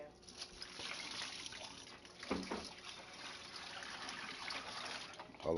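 Water being poured out of a bucket, a soft continuous trickling splash, fairly faint, with voices talking nearby.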